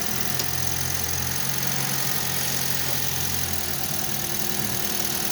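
A Toyota Vios that had sat unused for three months idles steadily after being started, a continuous low engine hum with a faint knock running through the whole stretch, close by and with no talk.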